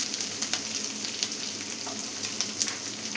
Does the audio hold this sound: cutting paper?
no